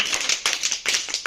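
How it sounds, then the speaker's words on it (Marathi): Four-finger claps in a group clapping exercise, a quick series of sharp, close claps in a steady rhythm. "4 बोटाने टाळी"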